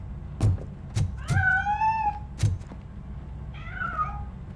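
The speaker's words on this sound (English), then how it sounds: "That cat must be hiding inside." A cat meows in the video game Robocop: Rogue City, giving two clear, drawn-out meows between a few dull thumps, close and alone without speech.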